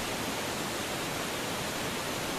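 Iguazu Falls roars at the Devil's Throat, a massive waterfall among more than 270 cascades, heard as a constant, dense wash of broadband noise with no pauses or voices.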